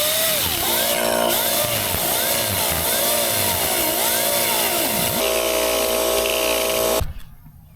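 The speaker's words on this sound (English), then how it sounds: "I'm going to, grind down the heads of these bolts just a little bit" Power tool grinding down bolt heads on a Victory Crossroads motorcycle, a loud continuous whine with wavering pitch sweeps for about seven seconds before stopping abruptly.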